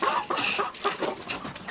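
A rooster calls up close in a rural village yard, giving a quick run of short, harsh clucking squawks with no talking.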